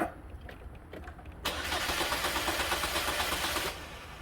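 A car with no fuel pressure cranks after sitting for a while: a quiet stretch of faint clicks, then a loud, rhythmic whirring crank for about two seconds that never catches and cuts off.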